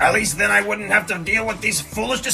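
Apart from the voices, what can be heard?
No everyday noise stands out behind the speech.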